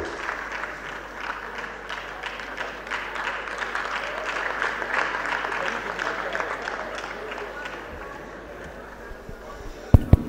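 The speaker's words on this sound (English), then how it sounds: "Please let's keep clapping for him until he goes" Audience at a university maritime studies lecture applauding steadily for an award recipient, a sustained crowd of clapping that fades near the end, capped by a couple of sharp knocks.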